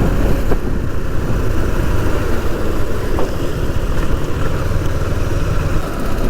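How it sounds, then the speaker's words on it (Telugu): A motorcycle cruising along a highway in the early morning, with steady engine drone and strong wind rush across the microphone, continuous and close throughout, with no talking. "చాలా రోజుల తర్వాత బైక్ మీద రైడ్ చేస్తున్నాను"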